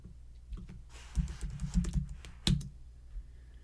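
Quick bursts of key clicks on a computer keyboard, close and fairly loud, with irregular taps clustered in the middle and a sharper strike near the end, no voices.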